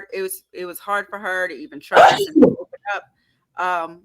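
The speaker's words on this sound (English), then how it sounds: "was that a sneeze?" A single sharp, forceful sneeze bursts out in the middle of conversation, with people talking before and after it.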